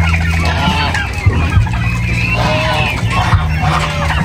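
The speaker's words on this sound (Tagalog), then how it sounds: "gutom pa po yung aking ibang hybrid turkey na mga babae" Hungry female hybrid turkeys call in a flock, dense overlapping clucks and squawks close by, continuous and busy, with faint background noise.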